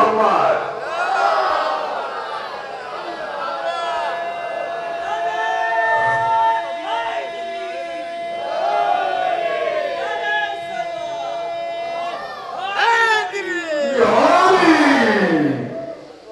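Crowd at a religious celebration in Sarfaraz Ganj, Lucknow, chanting salawat and slogans in rising swells, with a lead voice calling over the massed voices and a loud surge near the end.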